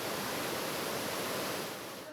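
A mountain river in the Carpathians rushing steadily, a broad, even watery roar heard close and alone, easing slightly toward the end.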